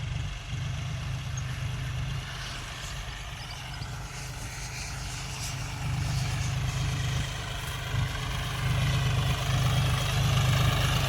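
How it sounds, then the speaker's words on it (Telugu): A tractor engine rumbles as it arrives in a weedy field, a steady low droning idle that grows slightly louder toward the end, heard alone without voices. "ట్రాక్టర్ వస్తుంది"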